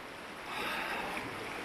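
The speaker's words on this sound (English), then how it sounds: "I really enjoy the sound of the river." River flowing with a steady, soft broadband rush of water, faint and continuous, alone without voices.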